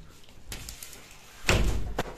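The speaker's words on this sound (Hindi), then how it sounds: "दरवाजा बंद कर दरवाजा बंद कर" A door slams shut indoors with a few heavy thuds, the loudest near the middle and a softer knock just after, all close by with no talk.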